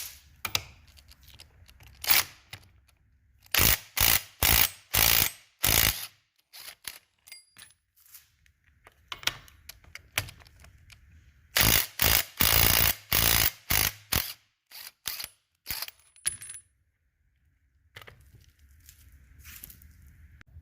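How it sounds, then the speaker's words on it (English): An impact wrench removing two 18mm cam gear bolts from a 4.6 4V SVT Cobra cylinder head, two separate loud clusters of sharp hammering bursts, close up, with quiet stretches between them. "I'm going to just go ahead and use an impact to get them off"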